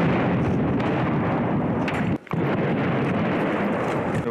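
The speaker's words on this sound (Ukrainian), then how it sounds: "Постійно обстрілюють нас з АГСів, буває, мінометами стріляють." Sustained heavy rumbling of shelling from mortars and automatic grenade launchers along the front near Avdiivka, a dense roar filling the whole stretch with a brief dropout midway.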